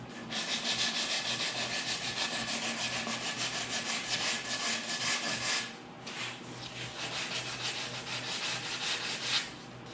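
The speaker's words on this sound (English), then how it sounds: "a little final hand sanding here just to tune it up a little bit" Steady, continuous hand sanding on a walnut pizza peel, a close, bright scratchy rasp of strokes with a brief pause near the middle, no voices.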